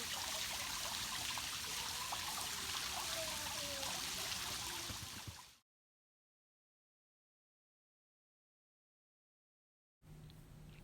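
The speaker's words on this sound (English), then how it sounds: "Here we are on the waterfall trail. Yeah, The but small waterfall." Steady rushing water from a small waterfall along a hiking trail, a constant even wash of sound that cuts off abruptly midway and resumes briefly near the end.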